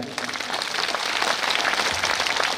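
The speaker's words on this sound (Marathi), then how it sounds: "सर्वांना विनंती आहे बापूसाठी आपण एकदा जोरदार टाळ्या बजवायचे आहे" An audience at a Hindu religious assembly applauds Mahant Gopalgiri Bapu, a sustained, fairly loud mass of clapping that starts suddenly and holds steady to the end.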